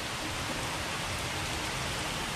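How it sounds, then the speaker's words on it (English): Heavy rain falling in Texas: a dense, constant broadband hiss of downpour with no breaks, close and even throughout. "now in the last 3 weeks, it's rained like every couple days"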